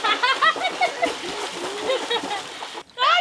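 People splash about while bathing together in a village pond, a steady wash of close water splashing with voices shouting and talking over it throughout.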